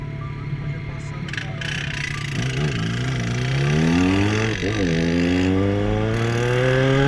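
A motorcycle idles at a traffic light, then revs and accelerates hard through rising gear-like sweeps, loud and close, with engine pitch climbing twice as it pulls away.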